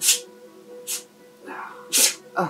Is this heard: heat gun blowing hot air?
no